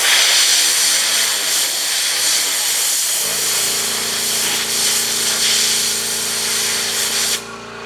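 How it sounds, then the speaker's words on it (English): Compressed air from an air compressor hisses in a loud, steady blast as it blows polishing compound, clear coat and debris out of a car polishing pad, running continuously and close before dropping off at the very end. "go ahead and grab your air compressor."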